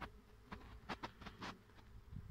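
Honeybees flying on an early spring day as they bring in the first pollen of the season, with a few faint buzzing passes coming and going under a quiet outdoor background.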